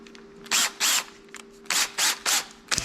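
A power drill whirs in five short bursts, each about a third of a second long, close by with brief pauses between them, drilling with a kit bit during a Helicoil thread repair.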